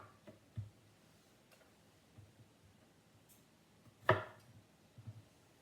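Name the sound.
knife cutting off the root end of an onion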